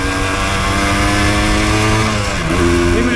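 A 1988 Yamaha DT200 two-stroke enduro motorcycle holds a loud, steady high rev close by, its buzzing tone dipping slightly and then climbing again near the end, with no talk over it.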